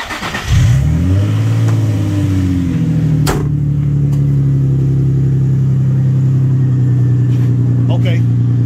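A 2006 Infiniti G35 engine cranks and catches, then settles into a steady close idle hum with a few clicks over it.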